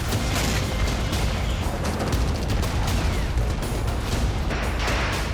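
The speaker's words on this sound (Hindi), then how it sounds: "इजराइल के हाइफा खाड़ी में तेल रिफाइनरी के पास जोरदार धमाके हुए।" Heavy explosions near an oil refinery in Haifa Bay, heard as a loud, continuous roar of rumbling blasts and crackling bursts with no clear gaps.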